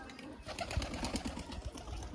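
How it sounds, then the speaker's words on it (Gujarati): Pigeons emerging from their enclosure, with a chick also coming out, give soft, faint cooing against a low, steady background murmur. "જો આવી રહી આપણા કબૂતર અને બચ્ચું જોવા આવી રહ્યું"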